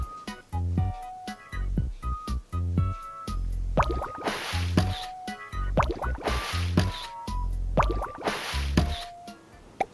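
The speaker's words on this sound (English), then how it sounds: "bubbles appear in the water, then a purple seal emerges with a splash" Cartoonish watery video game sound effects as a purple seal bursts up through bubbles: repeated bloopy pops, drips and gurgling splashes in a bouncy, steady rhythm, mixed with bright tonal chimes.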